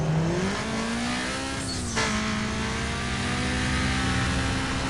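A car engine revs hard in Need for Speed Most Wanted 2005, a loud and steady drone that climbs in pitch through a gear shift, with a brief swoosh partway through.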